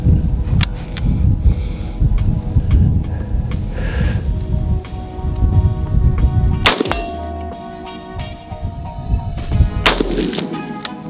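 Outdoor shooting with an AR-47 and an AK-47 firing steel-cased ammunition: loud, sharp rifle reports spaced a few seconds apart, each cracking out with a ringing tail and a clang like a round striking a steel target.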